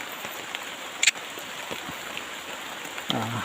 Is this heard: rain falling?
yes